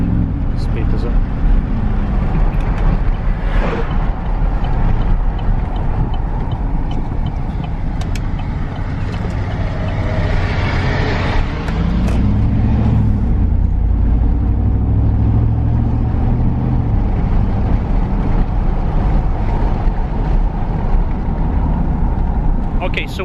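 A low-mileage Honda S2000 driving on the road, its engine a steady drone with some acceleration, heard from inside the car under continuous talking.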